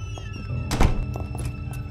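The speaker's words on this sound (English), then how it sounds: "I hear a fight" Fight noises in the Fallen Aces video game: a single heavy thunk of an impact lands midway, over a steady low game background hum, with no talking.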